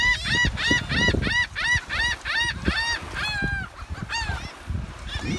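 Geese honk over and over in quick, loud bursts while being fed crackers with peanut butter on an island in the Exumas, Bahamas, with faint talk and movement underneath.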